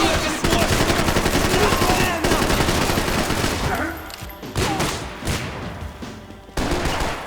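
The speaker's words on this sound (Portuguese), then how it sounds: "Continue atirando! Avante e vamos acima!" Dense, rapid gunfire fills a firefight in the video game Max Payne 3, with continuous automatic bursts and overlapping shots, loud and close, pausing briefly before resuming in fresh volleys.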